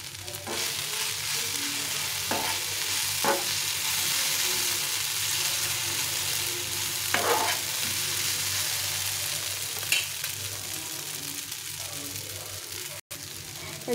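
A small amount of tomato ketchup mixture frying in a pan gives a continuous even sizzle, broken by a few brief scrapes of stirring, with no talking.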